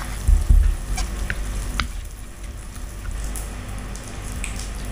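Sizzling mixture of melted butter with sugar and sesame seeds stirred in a pan, steady close frying hiss with a few scraping knocks near the start, no talking.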